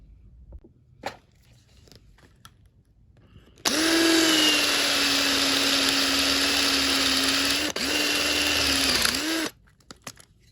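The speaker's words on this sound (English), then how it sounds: "what we're going to do now is get a bigger drill" A power drill whines steadily for about six seconds, loud and close, with a brief dip midway as it bites through the metal of a Mercedes rear wiper motor, then stops.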